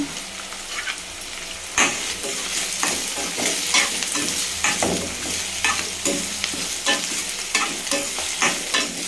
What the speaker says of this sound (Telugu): ఇవి కొంచెం ఆనియన్స్ బాగా ఫ్రై చేసుకుందాం ఫ్రెండ్స్